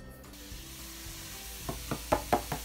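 Mushrooms dropped into a pan of hot coconut oil give a low, quiet sizzle, with a handful of sharp utensil clicks and taps near the end.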